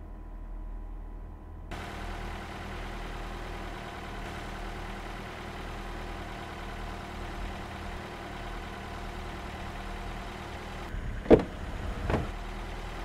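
A car engine runs steadily at a low idle, a constant near rumble throughout, with a couple of brief thumps near the end.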